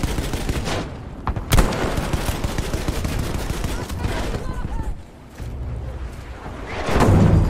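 Gunfire in the video game Battlefield V, dense rapid shots and bursts over a constant loud rumble of battle, with a sharp crack near the middle and heavy booming at the end; players talk over it.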